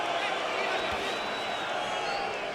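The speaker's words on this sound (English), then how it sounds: "Crowd getting restless here in the 11th round." A restless crowd at a Canelo Alvarez versus Daniel Jacobs middleweight boxing fight in the 11th round hums as a steady arena murmur with faint whistles, while a commentator talks over it.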